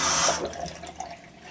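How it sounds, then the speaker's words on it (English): Hot water runs from a tap into a cup for washing: a brief loud rushing splash that cuts off quickly, then fades into faint trickles and drips. "Fill it up a little bit with water."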